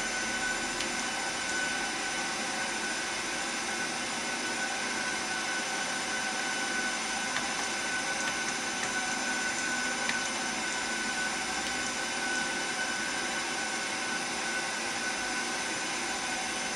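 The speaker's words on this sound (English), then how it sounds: "Orbit 3771, cleared for takeoff, runway 27" A jet airliner takes off from runway 27, its engines giving a constant, loud, broadband roar that holds steady and unbroken throughout, with no talk.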